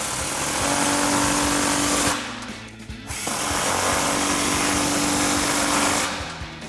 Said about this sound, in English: We're gonna grab our impact and 15mm socket